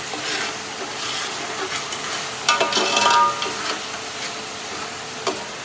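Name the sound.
masala frying in oil for paneer matar masala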